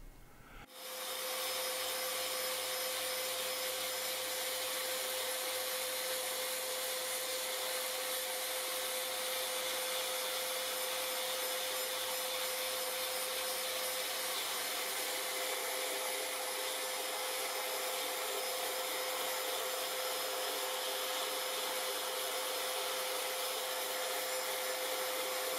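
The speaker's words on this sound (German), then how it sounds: "wird die Fläche mit einem 150er Schleifpapier abgeschliffen" Hand sanding of a sheet-metal surface with 150-grit sandpaper during finishing, a steady continuous abrasive rubbing hiss that runs unbroken and fairly loud for the whole stretch, with no talk.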